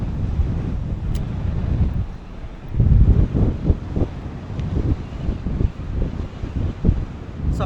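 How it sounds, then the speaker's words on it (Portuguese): Strong wind buffets the microphone at sea during a fishing trip on rough water with an Abu Garcia 7500 reel, a loud steady roar with surging gusts and no talk. "Nesse vento aí, né?"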